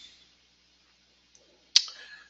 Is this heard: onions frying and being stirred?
no